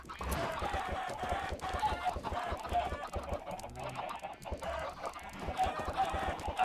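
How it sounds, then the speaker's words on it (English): Chickens in Minecraft cluck repeatedly in a busy overlapping stream of short clucks and squawks, close and fairly loud, with no talking over them. "I gently tapped a chicken and I got 8 eggs."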